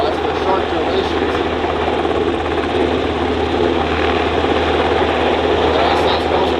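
A US Coast Guard MH-60 Jayhawk helicopter flying a search-and-rescue demonstration at an airshow in London. A loud, steady rotor and turbine roar runs unbroken throughout, with a voice talking over it.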